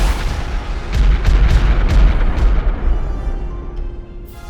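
Greek artillery fire in a mountain war setting: a rolling series of deep booms, several sharp blasts in quick succession over a dense, rumbling low roar that slowly fades, with a final distant crack at the end.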